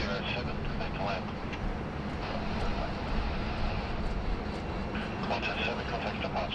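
A UPS cargo plane on short final to land at Sydney Airport gives a steady, distant engine roar that holds evenly throughout at moderate loudness.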